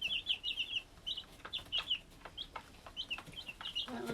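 Young Cornish Cross chicks cheep in repeated high, thin peeps, some close and some farther off, over a quiet background with a faint rustle near the end.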